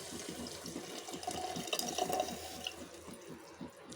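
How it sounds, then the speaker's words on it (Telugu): Buttermilk poured into a cooking pot for Telugu buttermilk rasam (majjiga charu), a steady close liquid splash and gurgle lasting a few seconds with no talking. "ఇప్పుడు ఈ మజ్జిగను వేసేద్దాం."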